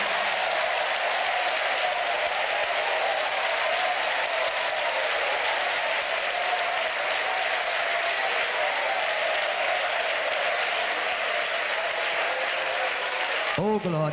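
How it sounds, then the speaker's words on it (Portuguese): A church congregation claps and cheers during a sermon, a sustained wash of applause and crowd voices that stays loud and even for the whole stretch. "Eu quero ouvir bastante palmas e bastante glória a Deus."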